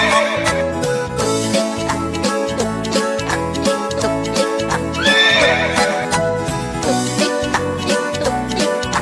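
A horse's hooves clop in an even trotting rhythm, blended with upbeat backing music, while a single neigh rings out clearly around the middle.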